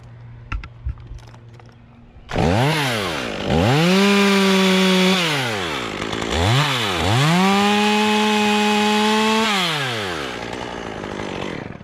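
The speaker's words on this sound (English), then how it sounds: "we're going to cut this limb off because it's shorter and less critical first" A chainsaw cuts off a tree limb with an open face cut: after a few faint ticks, the saw starts loud and close, revs up and down in two long rising-and-holding whines, then eases off.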